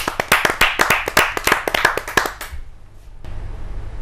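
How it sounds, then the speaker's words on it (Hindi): Rapid, sharp hand claps ring out close and loud, a burst of applause from a poetry gathering audience that tapers off after about two and a half seconds into quiet room tone. "आपकी जोरदार तालियां"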